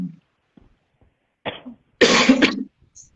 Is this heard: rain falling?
no